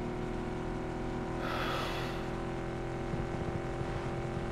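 Car engine in PUBG: Battlegrounds, a steady low drone with harmonic hum held throughout while driving, swelling briefly with a rushing burst midway, no talk.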